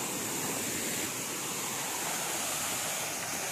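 A small waterfall at Hirakud Dam pours continuously, a loud, even, hissing rush of falling water with no breaks, heard close up and alone.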